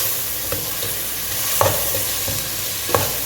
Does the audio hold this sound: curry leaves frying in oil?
yes